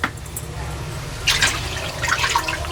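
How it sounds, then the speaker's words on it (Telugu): Water is poured from a bowl into another bowl while rice papad dough is being made, a soft trickling and splashing fill that swells midway and again near the end. "ఇదే గిన్నెతోని మనము ఒక 2 గిన్నెల నీళ్ళు పోసుకోవాలండి"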